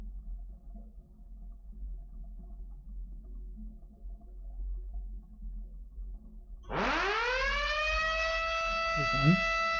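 A PLC alarm buzzer sounds for a filling valve failure, starting abruptly after a quiet stretch of low hum and then holding as a loud, steady, harmonic tone to the end.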